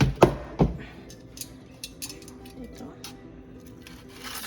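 Metal tongs clink and scrape against an air fryer tray as it is pulled out while cooking peri peri chicken, a couple of sharp knocks followed by faint rattles and light clatter, with a voice speaking over it.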